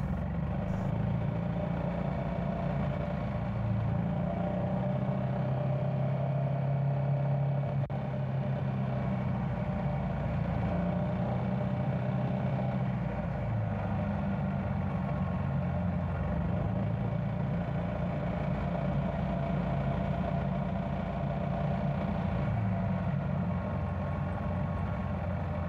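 A Yamaha Tricity three-wheel scooter with a 292cc four-stroke engine hums steadily while riding from Westervoort to Loo, a continuous low engine drone with road and wind noise and no talking.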